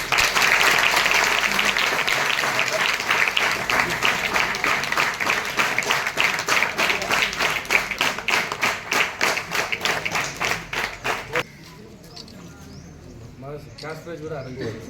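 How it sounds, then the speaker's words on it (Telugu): Students at a high school book distribution event clap together in loud, sustained applause that turns into rhythmic clapping. It stops abruptly near the end, and a voice then speaks. "క్లాప్స్ ఇవ్వడం ఒకసారి"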